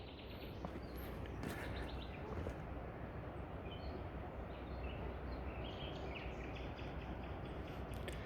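Faint birdsong in a village orchard in İskah, with scattered chirps and tweets drifting over a steady outdoor background wash, distant and soft throughout.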